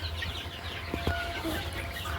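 Sonali breed chickens cluck softly in the distance over a low background hum, with a couple of brief sharper sounds.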